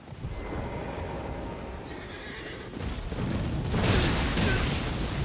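A horse in a video game lets out a long, rough neigh, loud and close, swelling toward the end over a dense noisy game soundscape with no talking.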